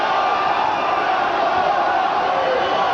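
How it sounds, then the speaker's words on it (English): At a WBC super bantamweight boxing match between Daniel Zaragoza and Erik Morales, a big arena crowd keeps up a steady roar of chanting and cheering, dense and continuous throughout. "You hear the crowd chanting for Zaragoza, Zaragoza"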